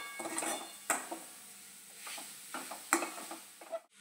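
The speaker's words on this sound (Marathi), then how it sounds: "बघू शकता साखर छान मेल्ट होत आहे आता" Sugar melts in a pan with cashews and almonds frying for amla laddoos, a soft sizzle under intermittent scraping stirs and a few sharp spoon-on-pan clinks, close and fairly quiet.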